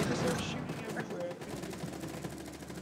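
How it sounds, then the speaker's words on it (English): Video game gunfire from a five-player team match, with a dense burst of rapid automatic shots and scattered reports up close, heaviest at the start and then continuing more loosely, with speech mixed in. "There's gunshots from everywhere."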